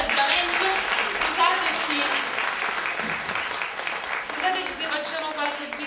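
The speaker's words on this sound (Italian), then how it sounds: "Ce lo fate un piccolo applauso di incoraggiamento." An audience at a 2013 carnival ballad performance claps in encouragement, a steady patter of applause running throughout while voices talk over it.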